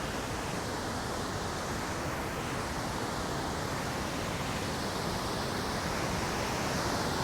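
Calypso Cascades in Rocky Mountain National Park, a steady, dense roar of rushing water tumbling over rocks, loud and unbroken throughout with no voices.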